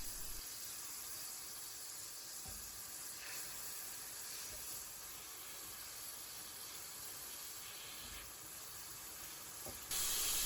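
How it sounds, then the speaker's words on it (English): Fenugreek leaves, paste and spices fry in a pan for a British Indian restaurant style tikka masala, giving a steady, even sizzling hiss throughout with a couple of faint knocks, no talking. "Stir them together gently, then fry for a minute to start releasing the flavours."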